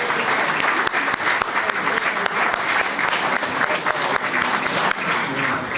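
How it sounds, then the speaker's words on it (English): Audience at a community awards ceremony applauding, dense sustained clapping filling the room at an even, loud level throughout, with a few sharper individual claps standing out. "big round of applause for Cameron Palmer"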